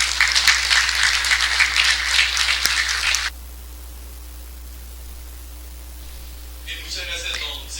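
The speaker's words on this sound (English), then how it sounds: "and an applause for the team" Applause for a team at the close of a Friday session, a dense burst of clapping for about three seconds that cuts off abruptly, followed by near silence and a faint return of light noise at the end.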